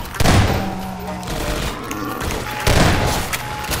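Bursts of rapid gunfire from a weapon in Half-Life 2: Episode One, loud and close, firing in two dense volleys with rumbling thuds between.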